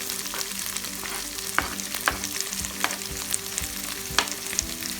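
Tomato sizzles in a pan with garlic and ginger, a continuous close hiss of frying broken by the sharp clicks and scrapes of a spoon stirring, with no one speaking.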